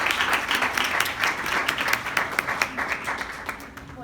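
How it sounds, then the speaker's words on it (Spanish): Audience applause at a university literature week opening: a dense, continuous crowd clapping holds fairly loud and steady for the full four seconds, with no voices on top. "aplauso para este maravilloso centro de estudiantes que organizó todo"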